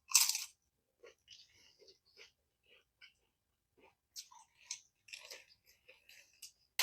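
Crunchy bites and chewing of a Taco Bell Doritos Locos taco shell, close and quiet, with a sharp crunch at the start, then scattered soft chews and a louder burst of crunching later.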